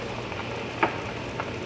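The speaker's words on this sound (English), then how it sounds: "It's sizzling." Spinach sizzles in a hot pan with a soft, steady frying hiss, broken by one brief crackle and a fainter pop a moment later, quiet and close, with no talking.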